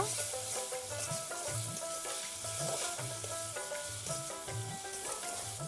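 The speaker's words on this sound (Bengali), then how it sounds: "চিংড়ি মাছগুলো দিয়ে ভালো করে মশলার সঙ্গে মিশিয়ে নিচ্ছি মশলার সঙ্গে চিংড়ি মাছটাকেও কিছুক্ষণ সময় ধরে ভালো করে কষিয়ে নিব" Prawns frying with spice paste in a pan for a prawn and taro curry, a soft steady sizzle under a louder rhythmic background that repeats throughout.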